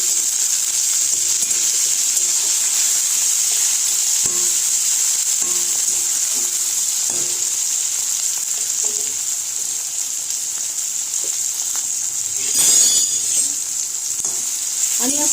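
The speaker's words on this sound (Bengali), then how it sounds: "এখন আমি এখানে এই কুচনো টমেটোটা দিয়ে দিচ্ছি আর চেরা কাঁচা লঙ্কা দিয়ে দিচ্ছি আর একটু নুন দিয়ে দিচ্ছি টমেটোটা সিদ্ধ হওয়ার জন্য" Chopped tomato, slit green chilli and salt cook in a pan for masoor dal, making a loud, continuous frying hiss with occasional stirring scrapes and a brief louder burst near the end.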